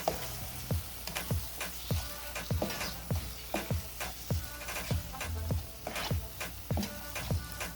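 Eggplant sautéing in seasoning with a pinch of salt in a pan, a soft steady sizzle broken by regular sharp scraping clicks of stirring, close and alone.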